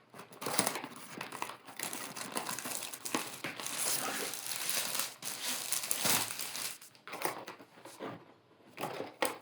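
A shipping carton delivered by parcel service is torn open and handled, giving dense continuous crinkling, crushing and tearing of cardboard and packing up close, with brief pauses near the end.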